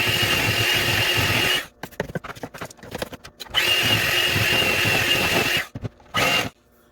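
Electric hand mixer whirring through sweet potato pie filling with brown sugar, white sugar and cinnamon, a loud steady buzzing drone that cuts off briefly mid-way, restarts, then stops with a short final burst.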